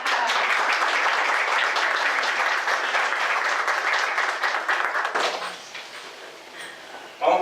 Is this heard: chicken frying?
no